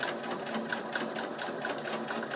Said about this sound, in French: On redescend notre pied et on finit notre couture.